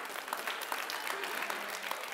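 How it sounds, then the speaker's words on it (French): Faint but continuous audience applause, a steady wash of clapping for about two seconds with no voices on top. "Applaudis!"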